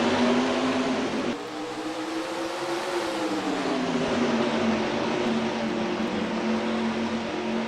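Race cars in the NASCAR Racing 2003 video game accelerate at the start of an IndyCar race at Mosport, a loud, steady engine roar climbing in pitch with no talk.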